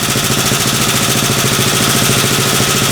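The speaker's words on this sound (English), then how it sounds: "engine's got a little bit of a valve tick in it" A brand-new mini truck engine idles steadily with the rear end jacked up, a fast, even ticking from a slight valve tick running through the loud, continuous mechanical hum.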